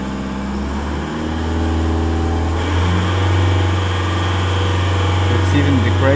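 A Holden Colorado engine with a fault runs as a steady low drone that lifts partway through into a firmer, slightly higher hum, like the engine accelerating, held at close range with no talk over it.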